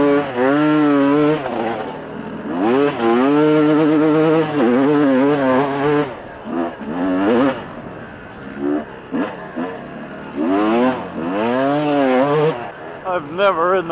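A motorcycle riding up a steep, rugged, stair-like rock trail in Utah, its engine revving and rising repeatedly in loud bursts, with brief dips between climbs and a voice talking at times.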